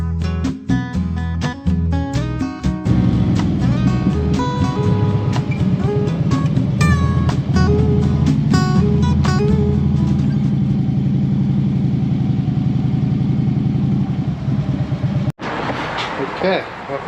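A brand-new Harley-Davidson motorcycle rumbles steadily while riding on a highway in Florida, its engine loud and close with a deep, constant drone and a brief dip near the end.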